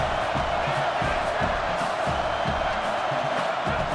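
A stadium crowd roars in a college football video game, a dense, steady wash of cheering and whooping from many fans rising behind the defense at the line of scrimmage.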